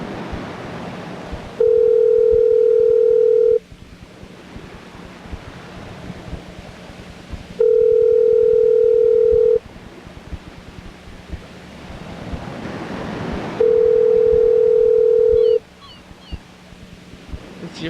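A telephone ringback tone on an outgoing call sounds three times, each a steady two-second burst with long gaps between, loud over a rough, windy background hiss.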